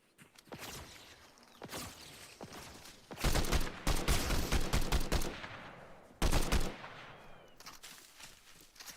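Burst pistol firing in a video game, loud close three-round volleys alternating with scattered single shots and rapid clusters across several seconds, with no talking.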